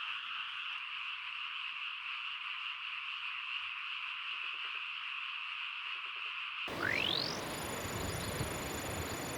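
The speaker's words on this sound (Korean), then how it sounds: "개구리 소리에 잠을 쉽게 들지 못하는 반가운 밤이다" A steady chorus of frogs croaking at night in Toyama, Japan, dense and continuous, with a few faint chirps, then a sudden shift to louder broadband noise near the end.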